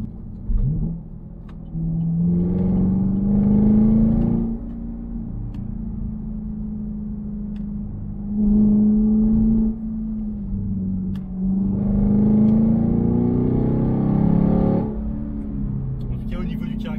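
A Chevrolet Camaro SS 1LE fitted with an MBRP exhaust revs repeatedly, its deep engine note rising in pitch through each pull before dropping back to idle, close and loud, with someone talking between the revs.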